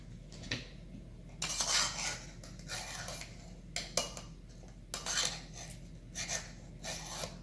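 Dry brownie ingredients with almond flour stirred in a bowl, with repeated scraping and clinking strokes of a utensil against the bowl in bursts, close and fairly loud.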